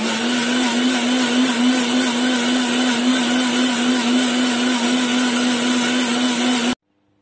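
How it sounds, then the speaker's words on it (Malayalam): A kitchen mixer grinder blends the green hariyali marinade for chicken tikka with a loud, continuous high whirring drone, then cuts off abruptly near the end. "ഇനി ഇത് മിക്സിയിലിട്ട് അടിച്ചെടുക്കാം."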